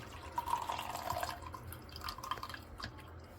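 Juice draining out of an opened Ontel Hurricane cordless juicer, a faint, irregular patter of drips and trickling liquid over a low motor-like hum, close by with no talk.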